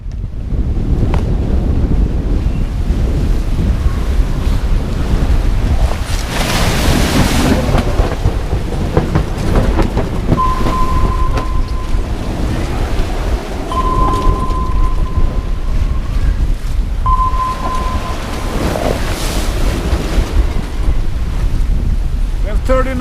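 Strong North Sea wind of about 30 knots roars over a sailboat on a wintertime solo crossing, with loud, steady buffeting, crashing waves and rumbling gusts, plus a few brief tonal beeps from onboard gear.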